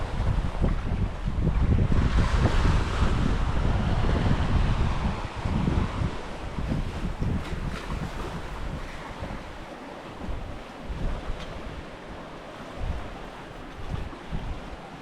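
Wind rushes and waves wash against a sailboat sailing solo off Fuerteventura in the Canary Islands in about 10 to 14 knots of wind, with heavy wind buffeting on the microphone at first and then steadier churning water and gusts.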